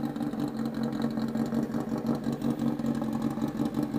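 A Honda CBR1000RR sport bike with a heavy custom machined TOCE-style exhaust idles, giving a steady, close, gravelly burble that stays even throughout with no talking.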